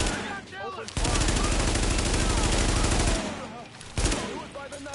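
Rapid automatic gunfire from Tom Clancy's The Division, loud sustained bursts with brief pauses between volleys, while voices call out briefly.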